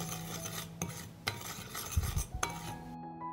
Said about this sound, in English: I will mix the spices.